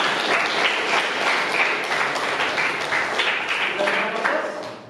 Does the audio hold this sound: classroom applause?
yes